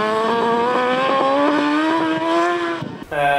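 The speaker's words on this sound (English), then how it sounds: "you hear the traction control working" A BMW HP4 Race motorcycle on track, its engine howling steadily upward with rhythmic stutters as the traction control cuts the ignition, then a brief drop and a gear change near the end, close and loud.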